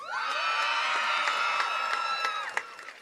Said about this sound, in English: Students, go ahead and make some noise and cheer for the school you attended.